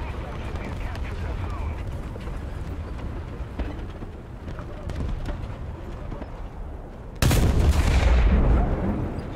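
Gunfire in a video game sniper battle, with scattered sharp shots under ongoing game noise and a loud burst near the end; no clear talk.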